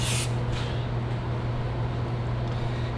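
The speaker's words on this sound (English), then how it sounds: "We're just gonna kind of spray down the caliper." Brake cleaner sprayed onto a brake caliper being prepped for ceramic coating: a short, loud aerosol hiss at the start, then a fainter second burst, over a steady low hum.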